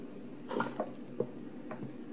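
Liquid soap is poured into a mixture for a colored bubbles experiment, giving a few soft wet drips and squishy glugs, fairly quiet and close.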